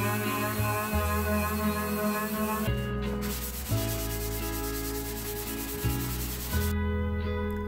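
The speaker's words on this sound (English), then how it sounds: "I'm sanding it because if I don't, it'll still have these little ripply sort of bits in the grain" Continuous power-sanding of thin 1/8 inch birch plywood, a steady loud grinding hum with shifting tonal motor bands and no pauses, heard close up with nobody talking.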